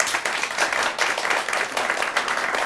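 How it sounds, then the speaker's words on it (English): An audience gives steady, dense applause at a careers-in-TV, theatre and film panel, with a continuous wash of many hands clapping at moderate loudness and no speech over it. "If we could give each guest a round of applause."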